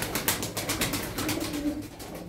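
Tumbler pigeons coo steadily in a loft, their soft, throaty calls overlapping in a continuous murmur at moderate volume, with no voices over them.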